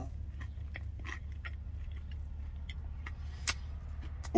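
Someone bites into and chews a Burger King Ch'King chicken sandwich inside a truck, with crisp, close bites and soft chewing over a steady low engine hum and a few small clicks.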